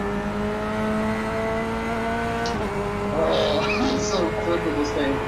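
A race car at full throttle on the Nordschleife gives a loud, steady harmonic engine drone that shifts pitch as it changes gear, with the driver talking over it.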